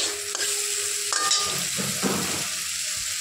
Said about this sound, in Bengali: এই বেগুনগুলো আমি এর মধ্যে দিয়ে প্রথমে ভেজে নেব।